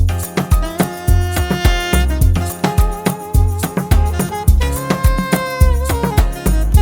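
Chopped saxophone sample from the Heaven's Gate pack, cut into short stabs over an Afrobeat drum pattern in FL Studio, with punchy kicks and rhythmic percussion driving underneath the bright, repeated horn phrases.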